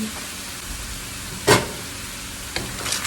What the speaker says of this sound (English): And then I'm going to add in our diced peppers